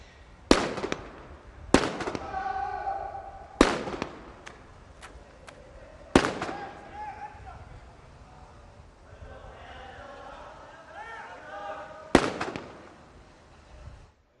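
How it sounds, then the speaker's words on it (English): Sniper rifle shots fired at the UAE SWAT Challenge, five sharp loud cracks spaced irregularly several seconds apart, each trailing a long echo across an open outdoor range, with faint crowd ambience between. "Now it's the sniper shots."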